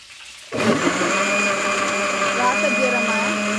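A kitchen blender whirs a milkshake, switching on abruptly after a half-second pause and then running as a loud, steady, droning whine to the end, with a voice briefly audible over it.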